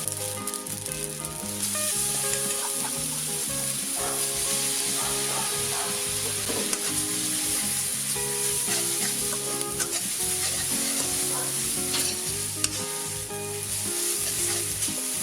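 Cha-om and egg stir-fried in a pan for a clean keto dish, a steady loud sizzle and frying hiss with scraping stir strokes throughout, no voices.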